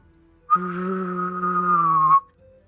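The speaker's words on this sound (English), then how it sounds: "my talent is I can vibrate my whistling" A single sustained whistled tone with a quick, wavering vibrato, clear and close, lasting under two seconds with silence on either side.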